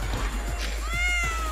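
A cat meows in a quick series of short, close, plaintive cries that rise to a longer drawn-out call, over a steady low hum.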